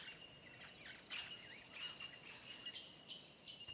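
Colourful Australian birds call in open woodland, with several faint chirps and short whistled notes scattered over a steady insect-like hiss, at a distance and without voices.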